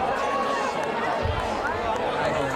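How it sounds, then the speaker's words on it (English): A high school football crowd cheers as the Petaluma Trojans play the Analy Tigers, a broad sustained roar of many voices with a brief low thump midway, steady and fairly loud throughout. "Excited cheer comes from the crowd."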